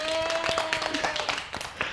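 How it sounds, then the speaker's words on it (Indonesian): Students in a university lecture give a short burst of scattered, irregular hand claps, fairly quiet, with a voice carrying over the clapping. "Tepuk tangan untuk Mary."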